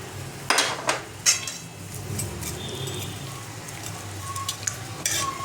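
Fried fish pieces go into a simmering gravy for desi aar fish jhal, with sharp metal spatula knocks and scrapes against the pot over a low bubbling sizzle.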